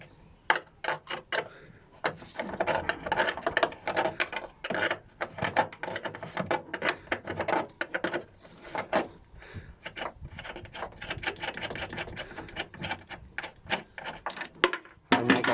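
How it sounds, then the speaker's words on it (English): Metal spanner working the rear light bolts on a Citroen ZX, a dense run of close, irregular clicks, ratchets and clacks with short pauses, loud and near, with no talking. "Can't get my socket on there, so we're going to just use a 10mm spanner."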